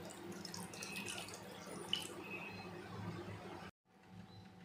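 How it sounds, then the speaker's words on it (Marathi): Water is poured into a Bombay duck fish curry, producing a continuous close splashing, trickling stream that runs steadily for several seconds before stopping abruptly, followed by quiet. "आता याच्यामध्ये आपण पाणी टाकूया."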